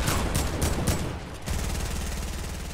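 Rapid automatic gunfire in a multiplayer shooter video game, first as a few loud separated bursts, then after a short lull a steady fast stream of shots that carries on to the end, with no talking.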